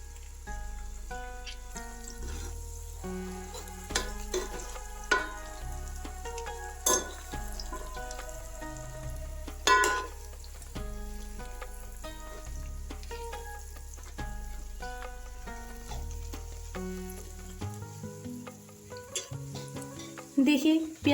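Onions fry and are stirred in a pan while cooking chicken dum biryani, with a faint, steady sizzle and occasional utensil scrapes beneath louder background music.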